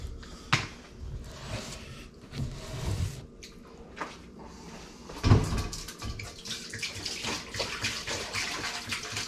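Spring water pouring into a clean brewing pot as a couple of gallons go in for a blueberry honey ale, a steady close splashing and gurgling stream with a louder surge midway and no talk.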